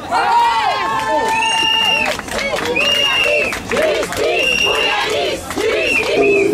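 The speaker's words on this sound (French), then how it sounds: "Vous pouvez vous applaudir s'il vous plaît." Crowd at a justice rally for a young man, cheering, chanting and clapping loudly and continuously, with rhythmic shouted chants rising over the noise throughout.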